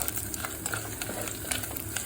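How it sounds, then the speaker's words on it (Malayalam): Chopped coconut pieces fry in a pan before going into a beef fry, giving a steady close sizzle with light stirring scrapes throughout and no talking. "തേങ്ങാക്കൊത്ത് ആദ്യം ഇങ്ങനെ വറുത്തെടുക്കണം"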